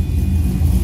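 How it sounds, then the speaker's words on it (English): A 2017 Chevrolet Camaro SS 1LE on a cold start, its engine giving a loud, steady low rumble up close. "And so this is kind of a cold start."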